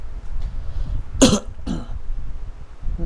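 A single close cough interrupts a quiet room during a lecture, followed a moment later by a softer throat-clearing sound.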